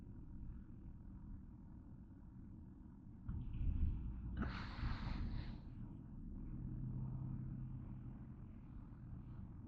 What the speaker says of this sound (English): Mercedes-Benz driving, boys and girls.